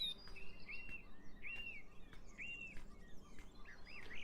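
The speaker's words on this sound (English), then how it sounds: "More birds." Birds chirping in the video game Beyond Eyes: a few short rising tweets repeat at roughly one-second intervals over a faint, quiet ambient bed.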